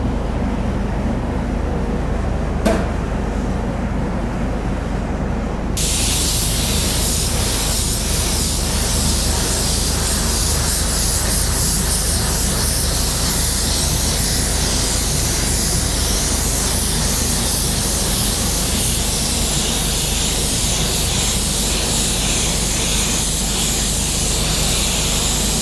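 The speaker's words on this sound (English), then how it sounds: "We're actually gonna put down some sealer, and then we're gonna clear base right over it," A spray gun lays sealer and clear base onto truck paint, a loud, continuous airy hiss that starts after a short quieter stretch and then holds steady and close.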